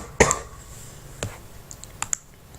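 A computer keyboard gives a handful of sharp, isolated clicks while a folder name is typed: one loud key hit, then a few softer taps spread over a couple of seconds, with no talking.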